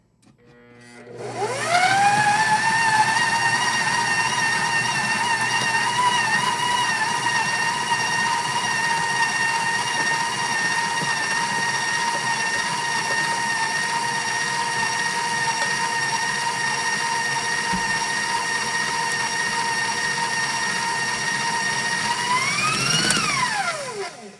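An electric mixer whirs steadily through chocolate sheet cake batter made with buttermilk and egg, its motor holding a constant pitch for over twenty seconds after a rising start and winding down at the end.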